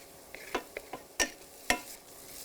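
Onions with thyme, salt and chopped parsley are stirred in a pan, giving a handful of short scraping clacks of a utensil against the pan over a soft, steady background, close and fairly quiet.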